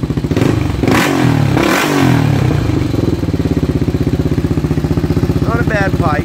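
A Honda ATC 350X engine fitted with a lightly baffled Cobra canister silencer revs close and loud, its rapid pulsing exhaust rising and falling, with a brief faint voice near the end.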